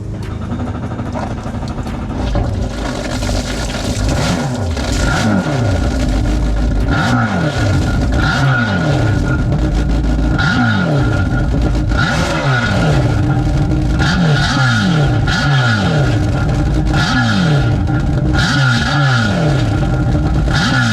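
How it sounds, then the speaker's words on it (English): Yamaha jet boat motors rev loudly again and again in repeated surges, a roaring rise and fall under a constant rushing wash as water blows out during cold-weather winterization. "Alrighty, so we have revved out the motors."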